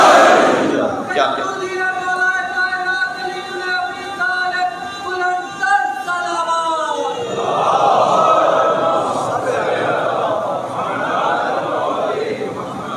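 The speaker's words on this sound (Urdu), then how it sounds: "آپ میں سے کوئی نعرہ حیدری کہہ دے" A majlis congregation in Karachi on 1 Muharram responds to a cleric's call with the Naara-e-Haidari, a voice leading a long sustained chant-like cry followed by a loud, broad crowd roar answering in unison.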